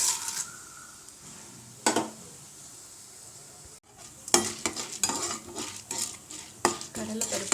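Garlic and chana dal roast in oil for idli upma, a soft sizzle broken by sharp scrapes and taps of a spatula stirring against the pan.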